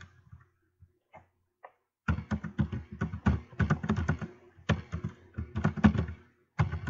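A deck of cards is shuffled close up, with a few soft isolated taps first, then bursts of quick riffling clicks and flutters in uneven runs with brief pauses between them.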